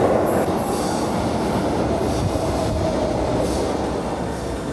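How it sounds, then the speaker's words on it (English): A São Paulo metro train pulls into the station with a loud, continuous rumble of wheels on rails and intermittent high squeals, close by and steady throughout with no talk. "waiting for the metro to come"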